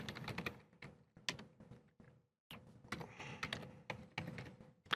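Rapid clattering keystrokes on a keyboard, close and fairly crisp, arriving in uneven bursts with a brief pause midway before the tapping resumes.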